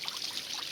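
Water pours and splashes steadily during an outdoor bath in an Uttarakhand forest, a continuous close trickle with no voices.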